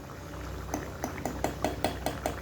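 Ghee heats in a hot pan before goat liver is cooked in it, giving a close, soft bubbling with a rhythmic run of pops about every fifth of a second.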